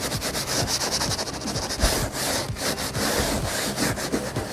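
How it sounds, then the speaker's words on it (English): Sandpaper rubbing back and forth over a kayak hull to prep the surface for a keel guard, a steady run of close, even scratchy strokes with no pauses. "you're going to want to sand down about the entire area that you're going to put the patch on."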